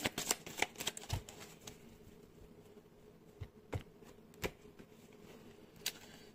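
Tarot cards being shuffled by hand, a run of quick riffling flutters and soft slaps in irregular bursts, close but quiet, with no speech.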